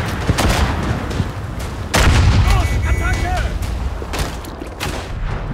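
Artillery rumbles and booms across a World War I battlefield in the Verdun game, heavy blasts landing one after another with scattered gunfire, loud and close, while someone talks over the barrage.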